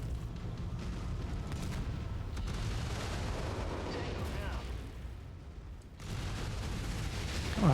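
Continuous rumbling blasts and booming explosions in the video game MechWarrior 5: Mercenaries fill the scene, dense and layered, with a brief dip before the roar swells again.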